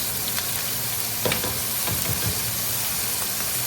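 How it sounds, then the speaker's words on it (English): Onions sizzle steadily in a pan with braising juice from balsamic braised beef, a constant frying hiss with a few soft stirring clinks and scrapes. "Go ahead and place your onions in the pan with the juice."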